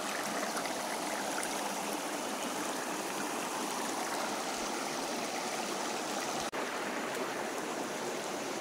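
A mountain stream rushing steadily over rocks, a loud, continuous broadband wash of flowing water heard close up, with no voices.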